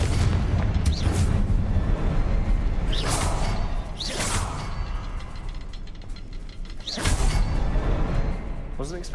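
Confringo blast spells going off in Hogwarts Legacy: loud booming explosions, each led by a whooshing burst, landing at irregular intervals over a constant rumbling game backdrop.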